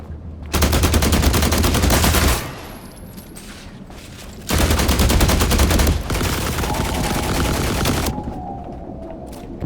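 Rapid automatic gunfire from the player's weapon in The Last Caretaker video game, two long sustained bursts of dense, loud shots separated by a brief pause, with a trailing rattle at the end.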